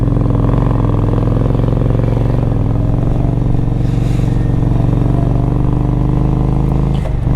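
Motorcycle engine droning steadily while riding on the road, loud and close with a constant low rumble and a slight shift in pitch near the end, and no talk.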